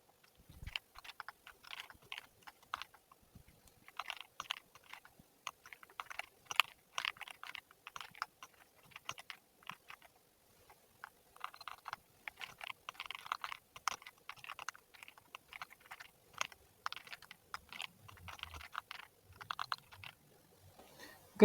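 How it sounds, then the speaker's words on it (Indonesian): Computer keyboard typing while parameters are entered for a database transaction exercise, steady bursts of close, crisp key clicks with brief pauses, no talking. "Di sini saya ngetik parameternya."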